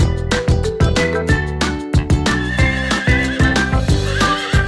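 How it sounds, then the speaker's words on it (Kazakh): A horse whinnies in a loud, close burst of shrill, quavering neighs that rise and fall, with sharp repeated pulses in the voice. "Жылқы."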